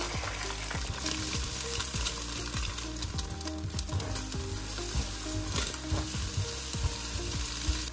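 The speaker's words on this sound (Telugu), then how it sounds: "అందులో కాస్త ఆయిల్ వేసుకుని ఇలా ఎగ్స్ని హై ఫ్లేమ్లో ఉంచి ఫ్రై చేయండి." Eggs frying in oil in a kadai over a high flame for street-style chicken noodles, a steady loud sizzle with scraping and stirring clatters of a spatula against the pan, no voices.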